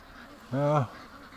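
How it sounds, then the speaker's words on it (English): A single nasal honk from a Canada goose sounds nearby, short and loud, over a low background hum. "It's got to be the Canada geese."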